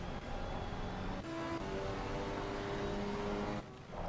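GT3 race cars in Assetto Corsa Competizione sweeping past one after another, engine tones whining and shifting pitch, moderately loud and steady with no talk.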